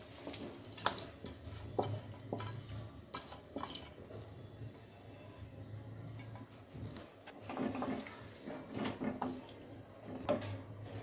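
Lentil paste stirred into boiling water in a wok while cooking musur dal bhapa, with scraping and clinking of a utensil against the pan over a low simmering rumble, alone and close.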